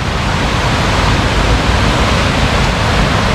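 Hulugan Falls in Luisiana, Laguna, with its waterfall and river rushing in a steady, dense, loud roar, close by and without voices.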